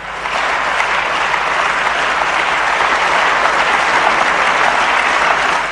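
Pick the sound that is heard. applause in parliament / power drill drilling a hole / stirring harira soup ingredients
applause in parliament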